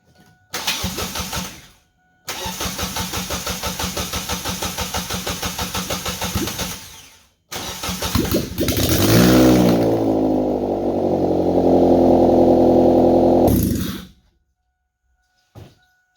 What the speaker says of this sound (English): I was very happy when the engine seemed to start up and run pretty well.